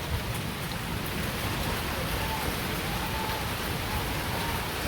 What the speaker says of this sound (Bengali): সে তো ওইদিকে বৃষ্টি নামছে